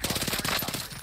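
Rapid bursts of gunfire from decoy grenades in Call of Duty Warzone, a dense rattling stream of shots that runs without a break for about a second and stays loud throughout.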